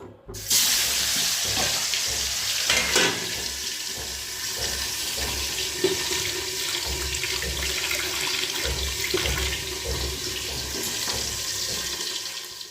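Fish frying in hot oil in a pan gives a steady, loud, close sizzle with crackling spatter that runs unbroken for the whole stretch, and no one speaks.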